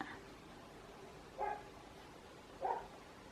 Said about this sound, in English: I do wish those neighbor dogs would stop barking.